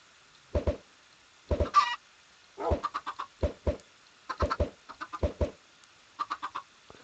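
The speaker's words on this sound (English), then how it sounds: "I get some chickens inside my house." Chickens cluck in short, irregular bursts with brief pauses between them, close and fairly quiet, with one higher squawk early on.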